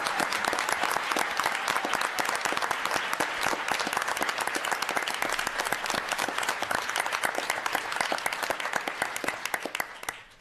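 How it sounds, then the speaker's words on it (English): A dense, steady round of audience applause fills a city council inauguration for about ten seconds, loud and continuous before tapering off at the end. "So, round of applause for Kelly."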